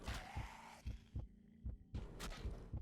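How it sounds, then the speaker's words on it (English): A heartbeat effect from the survival video game Cataclysm: Dark Days Ahead thumps in low, regular beats about twice a second, steady and throbbing, over a humming game soundtrack with no speech. "that is a bit too early for the heartbeat"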